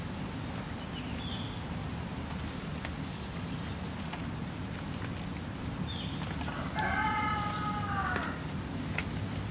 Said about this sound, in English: There goes the rooster